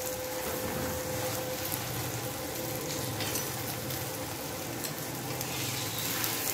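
A mooli paratha fries in ghee on a hot griddle, giving a steady, dense sizzle and crackle that holds at even loudness from start to finish.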